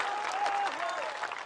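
Crowd applause at a political rally in Bihar, a dense burst of clapping from many hands with a faint voice running over it.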